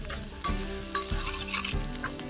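Chopped onion sautéed in a pan for Maharashtrian kande pohe, with a close, busy sizzle and regular scraping strokes of a spatula stirring every half second or so, and no speech.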